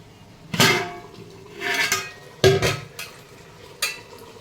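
Potatoes are stirred in a cooking pot for biryani, a few scraping, shuffling strokes of a spoon against the metal, each a short burst with quiet pauses between, up close and without talk.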